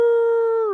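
A person imitates a wolf howl during a werewolf tabletop role-playing session, a single sustained tonal cry held steadily near the mic before sliding down and fading at the end.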